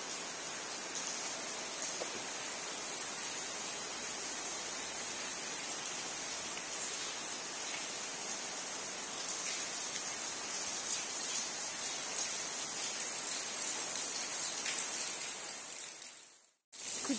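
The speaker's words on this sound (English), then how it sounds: "it's raining heavy outside" Steady heavy rain hisses evenly throughout outside an abandoned, fire-damaged factory, a dense broadband wash that cuts off briefly near the end.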